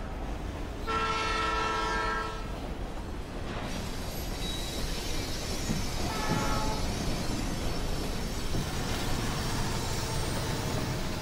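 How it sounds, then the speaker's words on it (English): A fast train rushes past in the video game Life is Strange 2, with a loud continuous rail roar and a blaring horn near the start, then clattering wheels sustained to the end. "Dude, that train's hauling ass."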